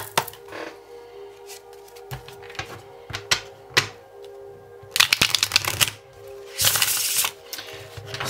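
Tarot cards are handled and shuffled at close range, first with scattered light taps and clicks, then two dense riffling bursts toward the end, with no talk.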